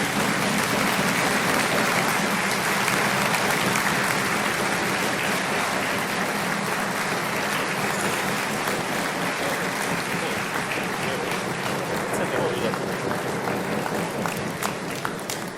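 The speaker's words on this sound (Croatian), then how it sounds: "pa ćemo ih pljeskom dopratiti ovdje do pozornice" Dense, sustained audience applause fills a large hall at the 25th anniversary event of the HDZ youth wing at the Zagreb Fair, steady and loud throughout before easing slightly at the end.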